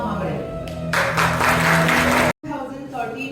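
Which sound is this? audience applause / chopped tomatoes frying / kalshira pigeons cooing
audience applause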